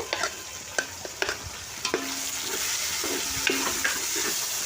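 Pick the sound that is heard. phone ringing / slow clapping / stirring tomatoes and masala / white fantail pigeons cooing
stirring tomatoes and masala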